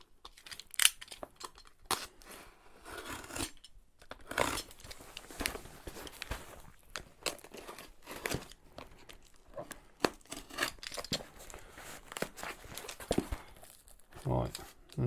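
Someone struggles with a heavily taped cardboard box, giving irregular crinkling, tearing and scraping bursts and sharp thumps, close by, while a person talks at intervals.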